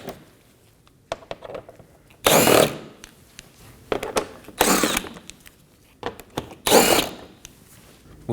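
A power tool zipping out 10mm bolts under the bumper of a Toyota Corolla, three loud, close bursts of whirring rattle, each under a second, separated by quieter clinks and handling noise.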